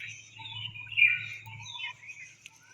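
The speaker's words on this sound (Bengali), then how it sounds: "কত পাখি ডাকছে" Several birds chirp and tweet in the morning around a rooftop, with bright, scattered calls over a low steady hum.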